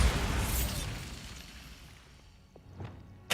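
Bombarda spell explosion in Hogwarts Legacy, a loud booming burst that trails off into a fading rumble, then a few small clattering pops and another sharp burst at the very end.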